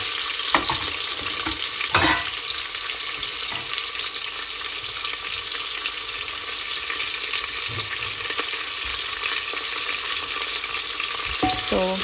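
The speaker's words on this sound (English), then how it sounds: "So you need to stir the onion." Chopped onion frying in a pan for tomato chutney, with a steady, even sizzle throughout and occasional spoon scrapes and knocks as it is stirred, a few of them clustered near the start and the end.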